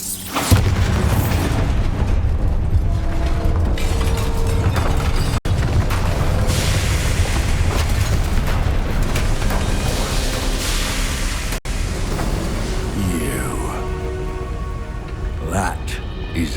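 Repeated Bombarda spell blasts in Hogwarts Legacy, deep booming explosions with a rumbling, rain-like crackle, loud and sustained across the scene, with a voice speaking over them.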